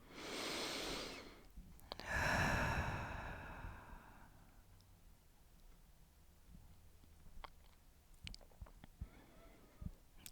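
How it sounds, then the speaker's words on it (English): Deep breaths during an intermediate core-strength yoga session, with a loud close exhale followed by a long breathy inhale-exhale that fades, then quiet with faint taps. "We want a nice, big, full cycles of breath here."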